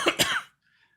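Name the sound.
cough near a Blue microphone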